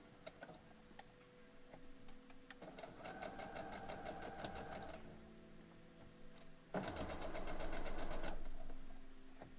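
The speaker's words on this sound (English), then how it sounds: "You're just sewing all of the pieces in row number 1" A sewing machine chain piecing quilt pieces runs in two bursts of rapid, even needle ticking, the second louder and longer, with quieter pauses between them.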